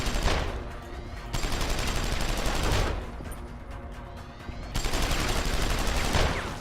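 Rapid gunfire bursts in the first-person game Deus Ex, dense crackling volleys filling most of the clip with a brief lull near the middle before shooting resumes loud and close.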